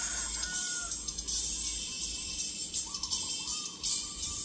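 Chickens cluck and call close by over a steady hiss of outdoor background noise, with a few brief louder bursts.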